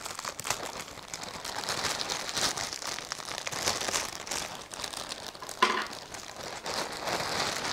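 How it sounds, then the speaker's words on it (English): Plastic packaging rustles and crinkles continuously up close, with irregular crackling bursts and one sharper crunch partway through. "rustling noise again"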